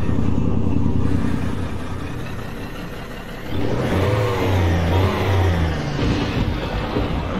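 A Kenworth W900A semi truck engine rumbles loudly throughout, rising into a deeper, stronger rev partway through and holding steady and close with no voices.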